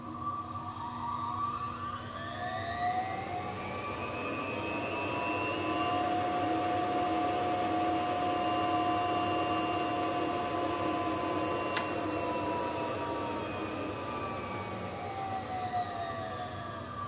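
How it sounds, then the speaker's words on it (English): A laboratory centrifuge spins plasmid purification columns, giving a steady, fairly loud mechanical whine with layered tones that rise and then fall as it runs up and winds down over about seventeen seconds, with no talking. "put your columns back in the centrifuge. Spin again for 30 seconds."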